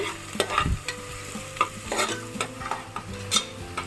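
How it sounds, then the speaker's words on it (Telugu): Finely chopped onion pieces frying in a pan as a spoon stirs them, with a soft continuous sizzle under repeated scraping clinks, close and moderately quiet. "ఇప్పుడు నేను ఉల్లిపాయ ముక్కలు వేస్తున్నానండి చిన్నగా కట్ చేసి పెట్టాను ఇప్పుడు బాగా వేయించుకుంటున్నానండి"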